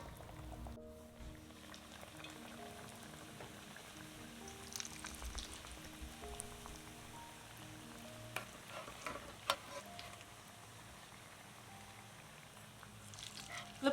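Coconut-filled gojiya dough pieces frying in hot oil, a faint, steady bubbling sizzle with scattered pops and light utensil taps, quiet and close.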